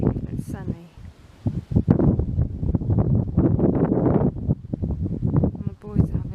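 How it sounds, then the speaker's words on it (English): Gusty wind buffets the microphone in uneven bursts, rumbling and rustling close by, with a person talking underneath. "It's really quite windy and it is cold"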